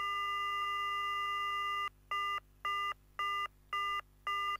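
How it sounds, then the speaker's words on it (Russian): An electronic telephone ringing in the Silent Hill video game, first a continuous warbling trill and then five evenly spaced, fairly quiet bursts of ringing with short silences between them. "Кажется, телефон сломан. Он только что звонил."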